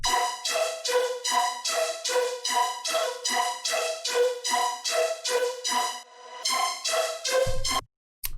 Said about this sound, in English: the color basses overall sound like this